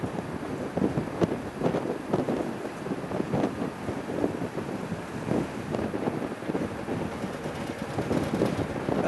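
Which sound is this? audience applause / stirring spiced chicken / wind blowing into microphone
wind blowing into microphone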